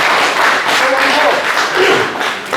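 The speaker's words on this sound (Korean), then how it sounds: "그럼 박수 한번 쳐주세요" Audience applause at a film production launch ceremony for a true-story movie about a 2004 Iraq kidnapping survivor, a steady wash of clapping sustained throughout with voices mixed in.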